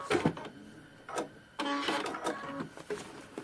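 Home sewing machine stitching a paper-pieced prairie point trivet: several short bursts of mechanical whirring and clatter with brief pauses between runs, close and fairly loud, no talking.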